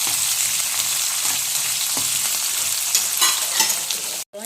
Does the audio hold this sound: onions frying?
yes